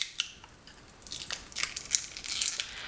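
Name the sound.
unwrapping a makeup eyeshadow package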